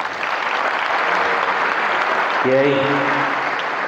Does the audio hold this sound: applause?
yes